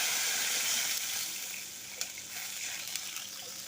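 Water poured into a hot pan of spiced vegetable curry, a soft hissing sizzle and gush that fades slightly, with a couple of faint clinks.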